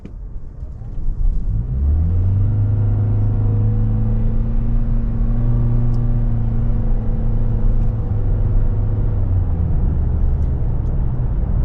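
A 2024 Toyota Corolla Cross Hybrid Nightshade accelerating on the road from inside the cabin, a steady rising engine drone with clear climbing tones over road rumble, loud and continuous, with no talk.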